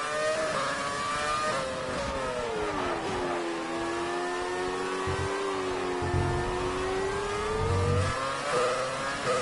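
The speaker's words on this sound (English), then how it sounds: "So the sounds of these old V8s are awesome." An old V8 Formula 1 car engine in a racing video game revs loudly and continuously, its pitch sliding down and rising again as it accelerates, with a harsh, buzzing tone and no voices.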